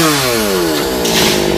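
A chainsaw roars loudly and steadily up close while cutting trees, its engine pitch sliding and straining under load as the chain bites through wood, with no voices over it.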